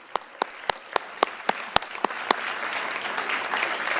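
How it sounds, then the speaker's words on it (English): At a high school sports awards night, a crowd applauds student athletes and their families: a few sharp, close individual claps ring out in a regular rhythm before broad applause swells up from the audience. "So big round of applause for our student athletes and the families."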